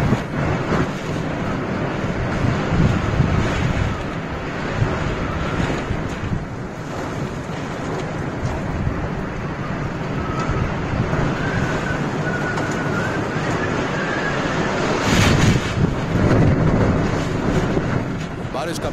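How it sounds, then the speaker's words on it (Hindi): Roar of strong storm winds, a loud continuous buffeting rush with wind hitting the microphone and ocean surf, a voice talking over it throughout. "तेज हवाओं की हुंकार के सामने कोई नहीं ठहर पाता है।"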